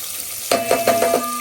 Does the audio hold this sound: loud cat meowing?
no